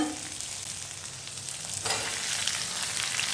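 Tomatoes sautéing in oil for a tomato kulambu, a steady close sizzle and crackle of frying that swells louder partway through, with occasional stirring.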